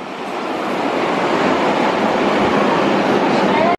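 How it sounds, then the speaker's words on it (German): Berlin U-Bahn subway train arriving at a station: a loud, steady broadband rumble and rush that holds for several seconds and cuts off abruptly at the end. "U-Bahn kommt auch gleich."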